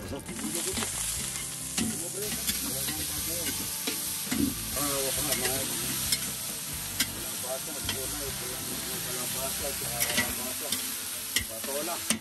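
Squash cooking in a hot pan at an outdoor cookout, a steady close sizzle with repeated scraping strokes of stirring running throughout, and a voice speaking now and then over it.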